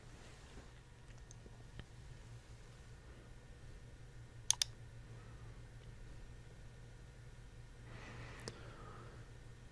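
A computer mouse clicks a few times, sharp and quiet, during work in LabVIEW software, with a pair of quick clicks midway and another later over a low background hum.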